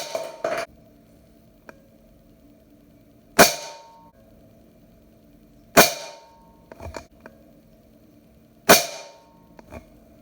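A Benjamin Marauder air pistol fires Crosman Premier pellets at small orange targets 30 yards away, three sharp, loud cracks a few seconds apart, each followed by a faint distant tick of impact and quiet handling clicks between shots.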